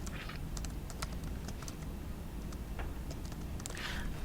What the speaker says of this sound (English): I'll just type that one in.